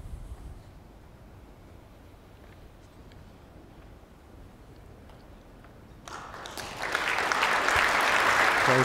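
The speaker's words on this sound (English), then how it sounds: "I'll tell you with the applause" Audience applause at a bowls match in the Scottish International Open 2017 semi-finals. Quiet ambience gives way at around six seconds to a swelling round of clapping that grows louder and continues to the end.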